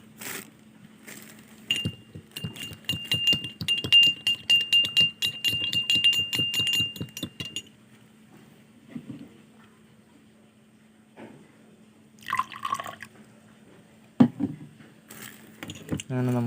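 A sugary glass rinsed with a little water: a quick run of close, rattling clinks of glass as it is swirled, then quieter scattered knocks, with speech in between.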